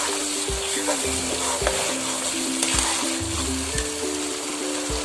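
Onions with whole cumin, bay leaves and salt frying in hot oil for an omelette curry, a steady close sizzle with soft stirring scrapes and no talk.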